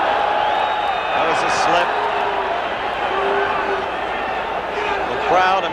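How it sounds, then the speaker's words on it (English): Enthusiastic crowd at the 1978 Sugar Ray Leonard vs Floyd Mayweather Sr. boxing match, a steady roar of cheering and shouting that swells near the end, heard beneath continuous commentary. "The crowd immensely enthusiastic, but not immensely knowledgeable."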